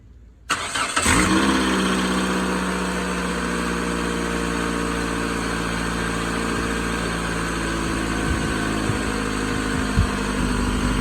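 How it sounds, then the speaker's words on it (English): A car with its AC compressor, which has a seized pulley, bypassed cranks briefly and fires up, then settles into a loud, steady idle with an even engine hum that holds to the end. "I'm gonna start up the car and see how it runs."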